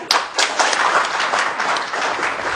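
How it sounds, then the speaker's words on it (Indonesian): A television studio audience breaks into applause at the close of an interview show, dense close clapping that holds steady for a couple of seconds. "Boleh tepuk tangan?"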